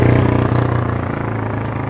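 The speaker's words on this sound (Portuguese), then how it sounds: "Só porque a moto é velha." An old motorcycle engine idles close by with a steady, loud, pulsing chug, alone without voices.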